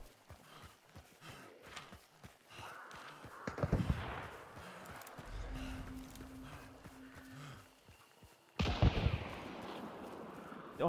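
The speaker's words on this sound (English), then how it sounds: "Already shooting someone again." Gunfire in the Hunt: Showdown game set in the Louisiana bayou: a cluster of loud, sharp shots around the middle, then a second burst of blasts near the end, mixed with other game noises and no talk.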